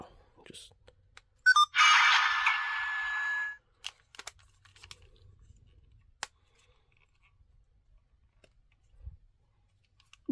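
A Kamen Rider Faiz Gear belt toy, CSM version 2, emits a short bright electronic tone burst lasting about two seconds near the start, amid small handling clicks and taps before and after.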